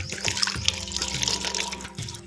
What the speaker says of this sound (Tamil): கொஞ்சம் பச்சை தண்ணி வந்து சேர்த்துக்கோம்